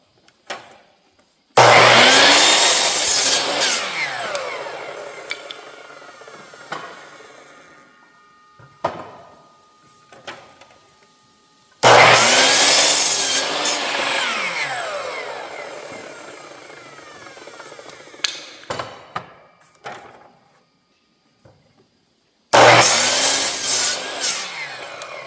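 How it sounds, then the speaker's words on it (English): A power saw cuts a wooden board at a 45-degree angle, turned on its side, in three loud bursts of whining, rasping cutting separated by quiet pauses with small knocks. "When we cut out in the field, we just turn our board on its side and we cut our 45."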